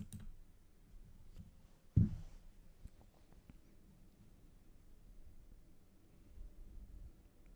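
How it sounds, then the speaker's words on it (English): A computer mouse clicks a few times during a remote desktop setup, with one sharper click standing out among faint scattered ticks over quiet room noise and no talking. "Next, we are going to click on that icon."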